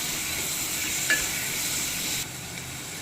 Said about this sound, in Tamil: இப்போ இது கூட நம்ம தக்காளி ஆட் பண்ணி நல்லா கிளறி விட்டுக்கலாம்.